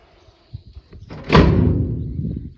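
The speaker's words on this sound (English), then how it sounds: "let's close the door for now." A door is swung shut with a loud thud partway through, in a project space in Portugal, after a few soft knocks and shuffles; the impact rings out and fades slowly, with no talking.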